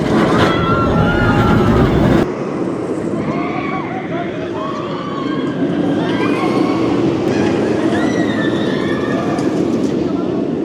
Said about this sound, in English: So let's go ride Zadra in the fog, in the snow.